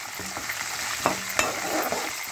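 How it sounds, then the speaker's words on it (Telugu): Green chillies and tempering spices with urad dal, chana dal and peanuts fry for wheat rava upma, giving a steady close sizzle with a few light stirring scrapes and clicks against the pan. "సో ఇది కూడా బాగా వేయించేసుకోవాలి."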